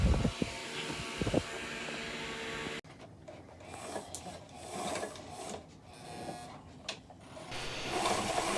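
A refurbished Sailrite sewing machine stitches a boat's Bimini top, giving a quiet, rapid mechanical whirring with shifting rasps and soft knocks, preceded by a brief burst of rougher handling noise.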